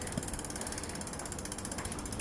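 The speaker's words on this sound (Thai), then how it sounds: "เราจะเปลี่ยนเสียงจากฮับเสียงแบบนี" Rapid, steady ratchet clicking of a bicycle freewheel hub, close and continuous with a fine metallic buzz, no voices.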